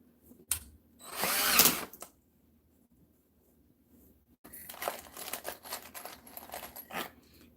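A power drill drives screws quickly into pre-drilled holes while building a tufted mirrored ottoman: one sharp, loud whirring burst early, then a stretch of near silence, followed by a busier run of rattling, crinkling drill and material noises.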